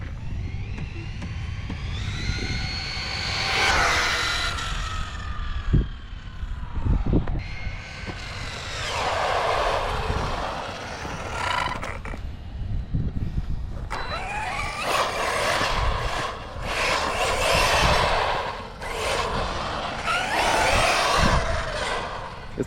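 Arrma Typhon 4-cell 1/8-scale RC buggy electric motor under throttle, whining up and down in repeated bursts as the throttle is feathered, loud and close with rolling ground noise.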